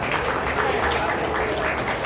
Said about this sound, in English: Let's give this young lady and senior showman a round of applause.